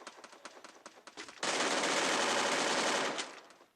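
Rapid automatic MP5 submachine gun fire in a video game, a few single shots followed by a long sustained burst that stops abruptly.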